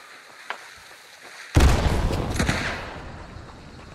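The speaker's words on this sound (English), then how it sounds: "See if you can fire a couple more rounds." Gunfire in a video game: after near-quiet with one faint click, a sudden loud burst of rapid, overlapping shots erupts and rumbles on for about a second before tailing off into a fading echo.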